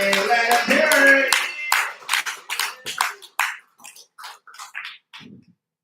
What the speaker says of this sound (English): clap it up right now for Omri Hananya, everybody